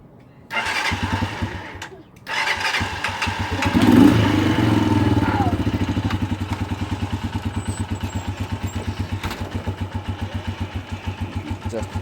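A Panterra 125cc dirt bike engine cranks, catches and revs up, then settles into a loud, close, lumpy idle with a steady pulsing beat, and no one speaks.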